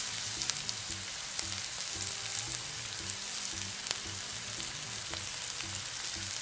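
Leeks, green chillies and curry leaves stir-frying in a pan for a Chinese potato stir fry, giving a steady loud sizzle with scattered crackles and light clinks of stirring throughout, no voices.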